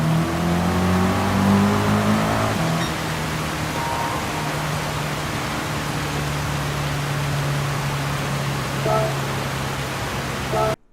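A car engine in a Gran Turismo 7 license test drones steadily at close range, its pitch shifting as the car brakes and accelerates, with a constant roar of tire and wind noise.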